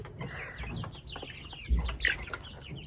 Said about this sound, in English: by chicks, I mean chickens.